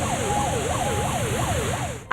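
Fire brigade truck siren responding to a factory fire, sounding loud and near as a repeating up-and-down wail cycling steadily for about two seconds, with no voices.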